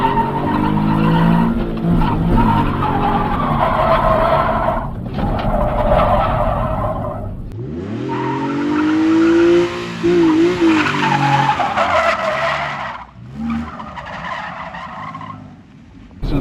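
Car drifting with a power-shift initiation, tyres squealing almost nonstop over a loud revving engine, with a rising and falling shriek at the start of the slide, close and continuous throughout.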